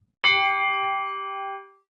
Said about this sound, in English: You get a gong.